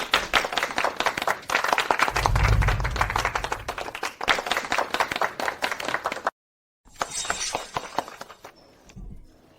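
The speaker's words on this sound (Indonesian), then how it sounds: "Ayo, berikan dia tepuk tangan yang meriah." Wedding guests applaud together in a steady wash of clapping that runs for several seconds, cuts out briefly, then picks up again more thinly toward the end.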